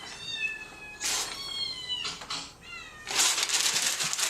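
A cat meows loudly several times in close succession, each call a drawn-out, wavering cry, followed by a burst of noisy scuffling.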